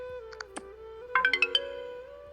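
Music box ringtone playing a short run of bright, plucked chime notes. A few separate tones come first, then a quick cluster of four or five notes, clear and close over a sustained soft tone.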